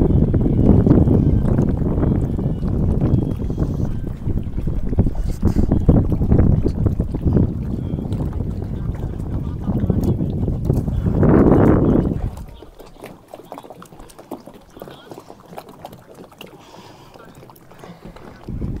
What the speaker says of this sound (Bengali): এখানে দেখো যা যা বোট আছে আমি একবার দেখিয়ে দিচ্ছি।